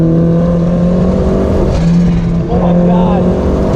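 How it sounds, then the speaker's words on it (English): Mazda Miata with a custom dual-tip exhaust, loud and close, revving with a deep rumbling drone that rises and falls in pitch, a voice briefly heard over it. "Now the exhaust sounds genuinely good"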